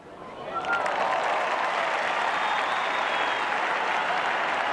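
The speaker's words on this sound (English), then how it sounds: "And the crowd enjoying this little stint of aggression by Kim Hughes" A cricket crowd at a 1983-84 Pakistan versus Australia Test applauds an aggressive shot, the clapping swelling after half a second into a steady, dense roar of applause that holds to the end.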